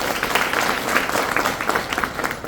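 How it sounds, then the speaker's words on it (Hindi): An audience at a business presentation in Nashik gives a loud burst of clapping for the presenter, dense and energetic with rhythmic peaks, filling the short span without speech. "सर के लिए एक बार जोरदार तालियां।"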